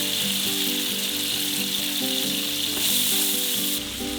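Steady loud sizzling of two kilograms of raisins frying in a pan, a continuous crackling hiss with faint clinks of a utensil, no voices.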